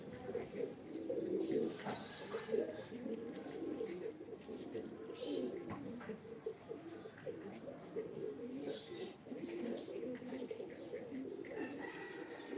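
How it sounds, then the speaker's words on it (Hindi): Pigeon cooing, a prized bird kept by a Pakistani fancier, soft repeated coos running steadily throughout amid a bed of background chatter and other bird sounds. "बड़ा जबरदस्त कबूतर है ये"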